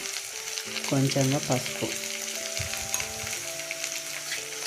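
Cabbage fries in a pan for vegetable rice with a steady, close sizzle and stirring, while someone speaks briefly over it and soft music plays in the background.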